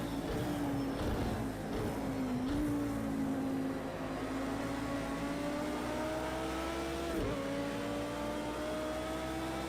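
Race car engine in Project Cars 2, a loud, sustained drone whose pitch climbs steadily, dips briefly on a shift, then keeps rising through the gears, heard alone without talk.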